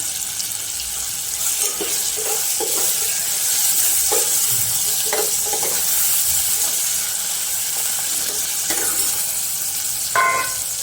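Moong dal and bottle gourd curry, Kathiyawadi style, is stirred in a hot pan, giving a steady close sizzle broken by scraping stirs and a few sharper clinks.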